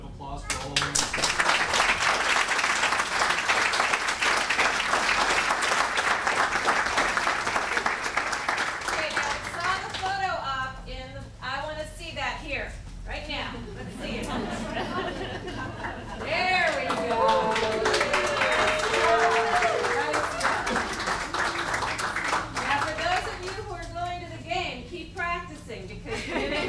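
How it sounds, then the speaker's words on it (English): An audience at a U.S. citizenship naturalization ceremony applauds new citizens, a steady round of clapping that later mixes with chatter and children's voices as it tapers and swells again. "How about a round of applause for all of them?"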